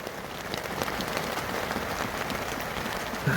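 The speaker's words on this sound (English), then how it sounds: "It's been raining for about 10 minutes. It went really heavy" Dense, steady rain during a thunderstorm in Torrevieja drums hard on a roof, a continuous loud hiss of countless drops with no break from start to finish.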